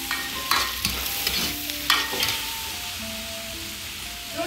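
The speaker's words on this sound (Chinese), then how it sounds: "先炒葱姜花椒干辣椒， 炒香放肉，" Pork stir-fried in hot oil with scallion, ginger, Sichuan peppercorns and dried chilies in a rural kitchen wok, a continuous close sizzle broken by several sharp scraping stirs of the spatula.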